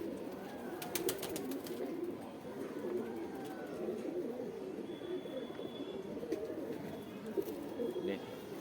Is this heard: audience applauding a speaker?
no